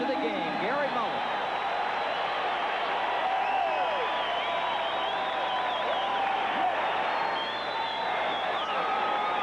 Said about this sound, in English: the Denver fans applauding his efforts